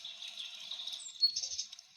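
Small birds chirp in the early morning at a river bend, thin high tweets close together, faint and soft against quiet surroundings, with no talking.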